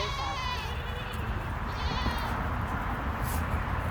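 Goats bleat at feeding time on a farm, a wavering bleat up close over a steady background of buzzing insects and outdoor noise.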